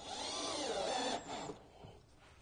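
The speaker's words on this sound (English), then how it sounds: "I'm just going to throw a couple of McFeely screws in here to hold it in place" A power drill drives McFeely screws into wood, a short whirring run that rises and then winds down, heard fairly close and alone.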